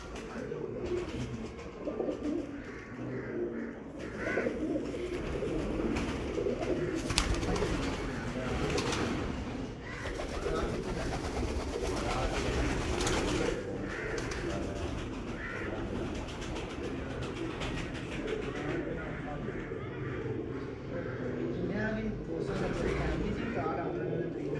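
Teddy breeder pigeons at a loft in Kasur coo continuously in a dense flock, soft throaty calls overlapping with steady rustling and background chatter throughout.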